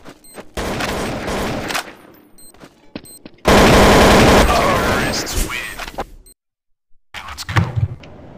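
Rapid automatic gunfire in Counter-Strike: Source, loud bursts of shots with a long sustained volley in the middle, then a brief silence and a few scattered impacts at the end.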